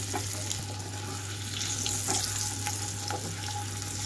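Eggs frying in a pan for egg curry, turned over to brown on all sides; a steady close sizzle with faint crackles runs throughout, alone with no voices.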